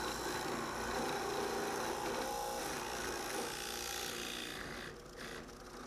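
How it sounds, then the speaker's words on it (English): A spindle sander smooths a wooden shop-jig part, producing a steady, quiet abrasive whir and rasp that continues evenly before easing slightly near the end. "Some more spindle sanding to clean it up."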